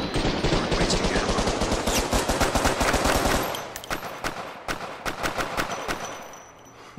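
Gunfire in the PSVR shooting game Crisis Brigade: loud, dense rapid-fire bursts pour out for a few seconds, then thin into scattered single shots with gaps between them.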